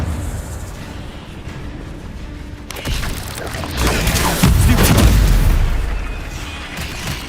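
A fiery spell blast from the video game Hogwarts Legacy, played on PS5, bursts out with a sudden whooshing crackle that swells into a deep, rolling boom before tapering off, loud and with no voices.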